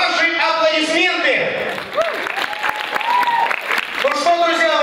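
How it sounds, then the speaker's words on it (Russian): Audience applause for the KVN team Biskvit at an Open League festival, mixed with shouting and cheering under loud, excited talk from a host and crowd throughout. "Команда КВН «Бисквит», ваши аплодисменты!"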